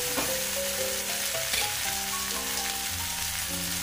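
Loud sizzling as water and milk hit a hot pan of frying spices, a steady crackling hiss up close, with faint tonal hum underneath.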